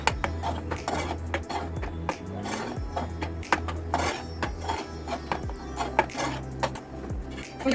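A spoon stirring curd into palak paneer in a metal pan on a switched-off stove: rapid, continuous clinks and scrapes of metal on metal, close and busy, with a low background hum.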